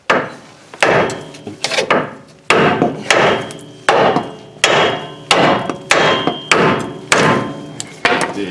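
A heavy hammer strikes a Chevy Trailblazer front lower control arm, about ten sharp metallic blows in a steady rhythm, each ringing briefly before the next, close and loud.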